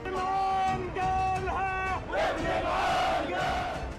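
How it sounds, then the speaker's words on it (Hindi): A crowd of protesters shouts slogans against Israel in the street in Jordan, hundreds of voices rising in loud, rhythmic chanting bursts that fill the whole clip. "इजराइल के खिलाफ नारेबाजी शुरू हो गई"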